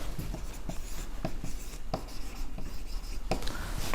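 Chalk or marker taps and scrapes across a board during a classroom lesson, a series of short, close, fairly quiet strokes in an irregular rhythm, with no talking.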